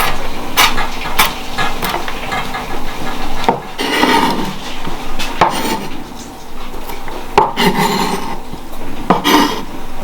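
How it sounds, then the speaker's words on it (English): Knife chopping an onion on a wooden board, irregular sharp taps and scraping knocks in loose bursts, close and fairly loud. "you're finally chopping the onion"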